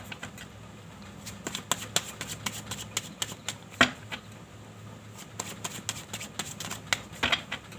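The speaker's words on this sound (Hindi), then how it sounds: "And this is my last shuffle." Tarot cards are shuffled by hand in a rapid patter of soft papery flicks and riffles, close and fairly quiet, continuing steadily for several seconds.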